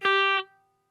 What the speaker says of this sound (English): If you don't push hard enough on the note as you move, you will lose the sound like this.